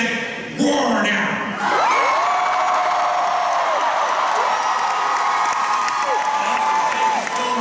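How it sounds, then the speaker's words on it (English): Convention panel audience at San Diego Comic-Con's Agent Carter panel roaring and cheering loudly, a dense sustained crowd roar with shrill whoops and whistles running throughout after a brief voice at the start. "If you're a Carter and a S.H.I.E.L.D. fan, roar now!"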